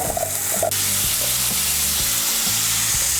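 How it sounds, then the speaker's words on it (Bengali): New potatoes frying in white oil in a kadai give a loud, steady, close sizzle, broken by a few soft knocks of stirring, with no voices. "এর মধ্যে আমি আলুগুলো ভেজে নেব"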